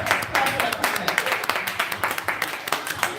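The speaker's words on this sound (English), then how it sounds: "clap it up" A small group claps in quick, uneven bursts, each slap sharp and close, with rhythmic peaks through the few seconds and a voice occasionally talking over it.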